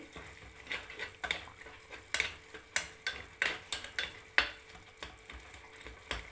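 A pot of curry with curry leaves stirred by hand, a run of repeated scraping and clinking strokes against the pot at an uneven rhythm, close and fairly quiet over a soft simmering background.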